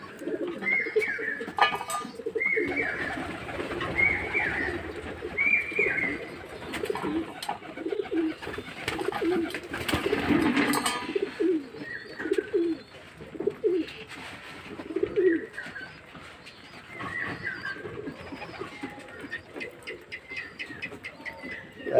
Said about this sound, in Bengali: দেখুন পায়রা কেমন খাচ্ছে দেখুন